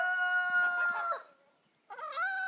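A rooster crows loudly nearby, a long harmonic call that breaks off, followed after a short pause by the start of another crow.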